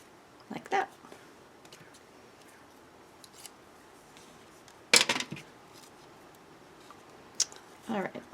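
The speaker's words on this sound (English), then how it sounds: "I'm just going to trim that off with my scissors." A few sharp scissor snips trimming paper for a collage, in scattered bursts, close by, with quiet pauses between them.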